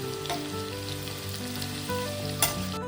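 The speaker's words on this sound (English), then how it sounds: "While the chicken is frying" Chicken pieces fry in a pan for a pickle, with a steady sizzle and occasional stirring scrapes and clinks, close and continuous with no voices.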